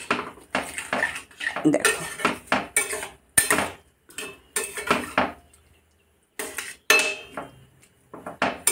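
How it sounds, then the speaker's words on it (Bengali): Fried potatoes tipped into a curry in a home kitchen pan, making clattering metal scrapes and clinks of utensils and cookware in bursts with short pauses, close by, while someone speaks briefly. "তার সাথে ভাজা আলুগুলো আমি ঢেলে দেব একবারে।"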